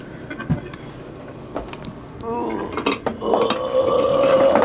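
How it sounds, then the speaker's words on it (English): A footstool being grabbed and moved indoors: a few scattered knocks and clatters, then a grinding scrape and a resonant, ringing rattle as it settles, close by. "That's my grabbing a footstool sound."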